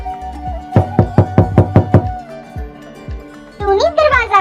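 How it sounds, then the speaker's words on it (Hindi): A cartoon door knock: seven evenly spaced raps land in a quick steady rhythm, followed by a pause and then a voice. "दरवाजे पर दस्तक होती है"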